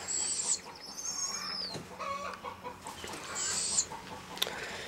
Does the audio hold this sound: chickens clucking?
yes